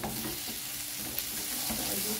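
Dadar gulung filling being stirred and fried in a pan, a close, continuous sizzle with soft scraping stir strokes throughout, no voices.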